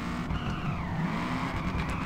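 A Toyota GT86 in a racing video game squeals its tires in a sustained slide, the engine droning steadily underneath, loud and continuous with no talking.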